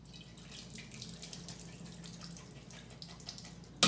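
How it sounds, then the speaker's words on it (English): Canned diced tomatoes pour into a strainer for a Polish bigos stew, making a steady close wet splashing and trickling sound that ends in a sharper knock, with no voices. "I'm just gonna go ahead and empty some of this into a strainer."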